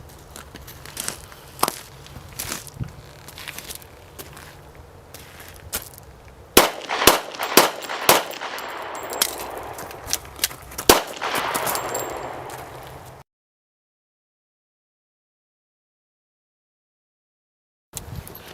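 Rapid gunshots from a shooter who resumes firing after a reload during a sheriff's demonstration, a series of sharp near cracks in quick bursts, then the sound cuts to silence.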